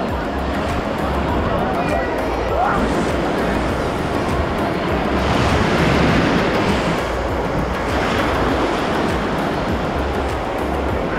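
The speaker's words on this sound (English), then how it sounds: "They've actually set this wave pool up such that it makes a breaking wave." Breaking waves roll through a wave pool on a cruise line's private island, a loud continuous wash of surf up close with wind buffeting the microphone and crowd babble underneath.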